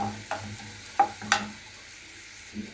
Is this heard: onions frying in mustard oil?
yes